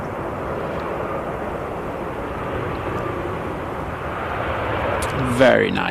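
An airplane lands at Manchester Airport, a steady broad rumble of engines and rushing air heard from a distance that swells near the end, with people talking faintly over it.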